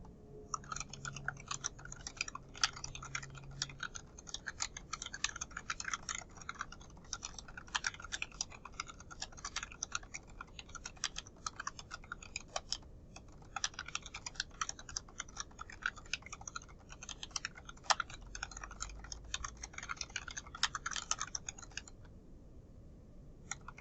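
Typing on a computer keyboard in a spreadsheet, a quiet, fast stream of irregular key clicks close by, pausing briefly near the end, with no talking.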